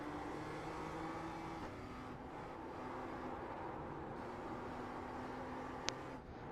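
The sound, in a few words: race car engine in a sim racing video game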